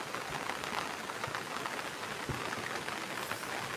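Torrential downpour over a village, heard as a steady, dense hiss of heavy rain that never lets up, fairly soft in level with no voices.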